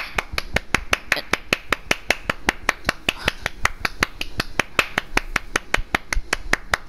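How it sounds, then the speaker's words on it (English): Hands clapping steadily and quickly, a long even run of about two dozen sharp claps close by, with faint background noise between them. "I'm clapping, so you know that I don't have my controller in my hand."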